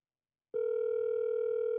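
Steady telephone tone sounding alone after a brief silence, a loud continuous hum that holds unbroken to the end as an outgoing call waits to be answered.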